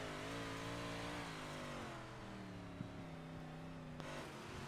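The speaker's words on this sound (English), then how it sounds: "You can hear him working the throttle inside that 99 machine." A dirt track race car, the No. 99 machine, revs hard as its driver works the throttle, the loud engine note climbing and dipping in a steady, continuous drone.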